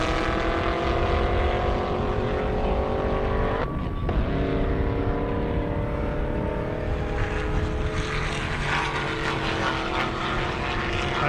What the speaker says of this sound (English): pad so you can hear the cars launch